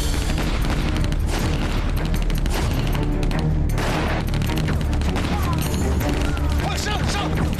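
Rapid, dense gunfire and booming shots fill a shootout in a Chinese crime drama, loud and continuous volleys with crashing bursts throughout.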